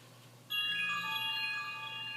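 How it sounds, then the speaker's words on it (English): A mobile phone ringtone suddenly starts up and keeps playing as a bright, sustained electronic melody with steady tones, fairly quiet and heard alone without speech, during a wood stock refinishing job on a PAP M85. "that's my phone going off there"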